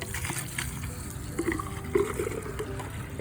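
Water spraying across a shed floor as it is hosed out, a steady broadband hiss with small splashing bursts throughout, close and fairly loud.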